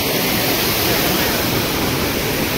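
Heavy monsoon flow at Kalu waterfall thunders in a loud, close, continuous rushing roar of water, steady throughout with no distinct breaks.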